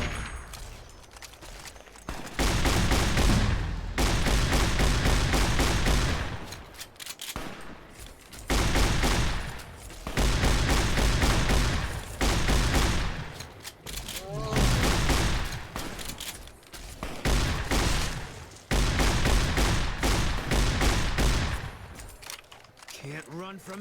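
Bursts of gunfire in Fallout New Vegas, long sustained volleys of rapid shots broken by short pauses, loud and close, with voices now and then.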